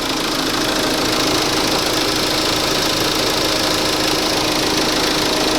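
A Renault Master bi-turbo M9T diesel engine runs at a steady idle, a loud, dense clattering drone that holds constant throughout, close up and without speech.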